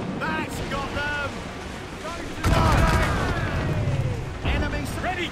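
Booming ship cannon fire in the video game Assassin's Creed Rogue, a heavy blast followed by rumbling sea and crackling, under voices shouting during a naval battle.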